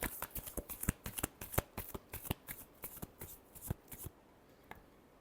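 A deck of tarot cards is riffled and shuffled close up in a quick series of crisp flicking bursts that taper off after about four seconds, followed by a single soft tap.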